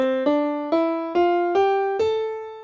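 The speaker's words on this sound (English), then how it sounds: "So here's the sound of the scale that I have up on the screen." Six evenly spaced notes climb one by one, each struck crisply and left to ring, forming part of an A natural minor scale played on a clear pitched instrument, close and alone.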